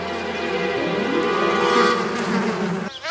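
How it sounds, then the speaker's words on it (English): A dense swarm of bees makes a loud, continuous buzz that fills the space, steady and close throughout with slight swells, and no voices over it. "Louie, what you got there? Bees."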